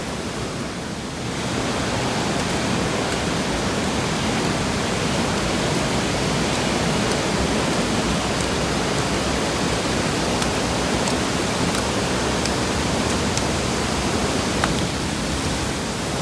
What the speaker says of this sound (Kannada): ಅಲ್ಲೋಡಿ ಫಾಲ್ಸ್ ನೀರು ಬಿದ್ದು ಹೆಂಗಾಗಿದೆ ಅಂತ